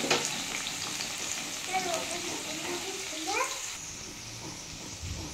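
Potatoes frying in oil in a pan for a vegetarian potato and pointed gourd curry, a steady close sizzle with faint stirring and scraping, no voice over it.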